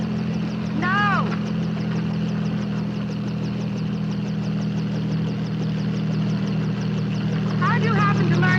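A helicopter engine hums with a steady low drone and rapid rhythmic rotor chop throughout, with people talking over it.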